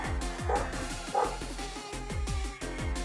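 A Doberman barks in a rapid series of sharp, close, loud barks with brief yips between them, continuing throughout with no pauses.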